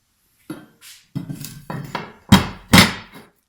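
Steel pickets for a metal gate drop one after another into a welding jig, making about six sharp metallic clanks at irregular intervals. The last few are the loudest.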